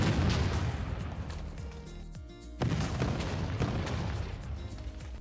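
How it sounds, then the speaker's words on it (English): Ship-mounted cannons firing in a Minecraft ship mod game, a dense run of booming blasts and bursts with a brief pause midway before the barrage resumes, loud and close over game music. "You can also place cannons to fend off any danger that may arise."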